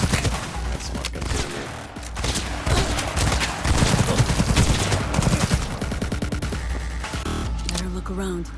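Rapid bursts of smart gun fire in the video game Cyberpunk 2077, loud and dense, with repeated volleys and impacts across the stretch and a person talking over the shooting.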